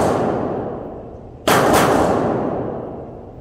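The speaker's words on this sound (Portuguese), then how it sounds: "Vou esperar o pessoal terminar a rodada de tiro." A single sharp gunshot from people shooting at a firing range cracks out over steady background noise, followed by a short echoing tail.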